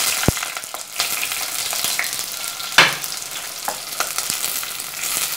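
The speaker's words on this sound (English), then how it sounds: "we'll add in the onion along with curry leaves and green chili" Onions, curry leaves and green chilies sizzle in a hot pan of oil for a Malabar chicken biryani, with a steady frying hiss, a few stirring scrapes and a louder burst of spatter partway through.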